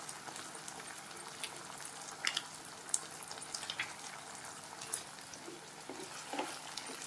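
Ragi noodles tossed in a pan with red chilli, green chilli and soy sauces give a steady, soft sizzle and bubbling fry, with light scrapes and clinks scattered through.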